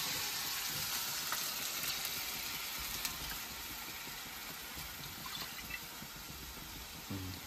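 Tempering (fodni) for kadhi sizzles faintly in hot oil, a soft continuous hiss with scattered tiny crackles and a few light clicks, heard at low level without talking.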